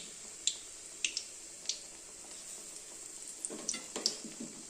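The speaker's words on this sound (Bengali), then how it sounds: "এই যে একটু বেসন দিয়ে ভেজে নিই, তেলটা গরম হয়ে গেছে" Gram-flour-coated pumpkin pieces frying in hot oil, with soft scattered sizzles and occasional sharp crackles and pops, fairly quiet and close, a busier burst of spitting near the end.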